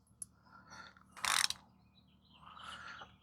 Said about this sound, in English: we're going to torque these down best we can